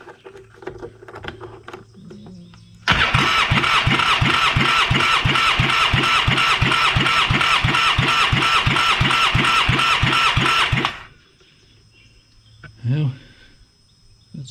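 A car engine cranks steadily on the starter during a cylinder compression test with the head work underway, a fast rhythmic churning lasting about eight seconds, loud and close, then it stops and quiet shop noises follow.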